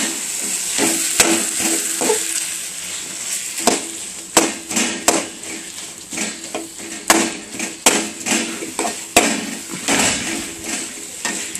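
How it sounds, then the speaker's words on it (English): Eggplant bharta is tipped into a frying masala for baingan ka bharta, giving a steady close sizzle broken by repeated sharp knocks and scrapes of a spoon against the pan, with no talk. "Now I am going to add this bharta"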